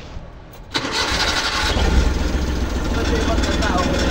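A Rusco multicab's engine cranks briefly and catches on the first try after about three quarters of a second of quiet, then settles into a loud, steady close-up idle, with people talking nearby.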